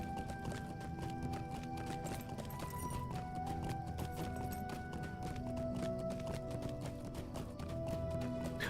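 Horse hooves galloping in the online game LOTRO: quick, steady clip-clop beats running continuously throughout, under a bed of tonal game music.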